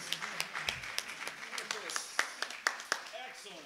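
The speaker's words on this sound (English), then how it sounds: "A round of applause for the Unity percussion section." Church congregation at a Sunday service claps for the percussion section, with sharp scattered hand claps over continuous talking and background sound.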